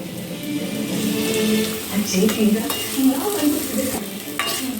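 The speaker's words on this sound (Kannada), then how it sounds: "ಎಣ್ಣೆ ಕಾದಿದ್ಯಾ ಹಾಂ ಸ್ವಲ್ಪ ಫ್ರೈ ಮಾಡಬೇಕು" Food frying in hot oil in a home kitchen, a soft sizzle under scraping and stirring clatter from a pan, with a voice murmuring faintly in the background.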